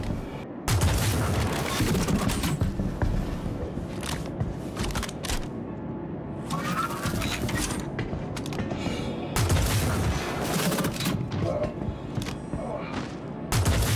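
Electron Bolt sniper rifle firing in Star Citizen: a few heavy, spaced shots with crackling electric discharge tails over continuous loud combat and game ambience, no talk.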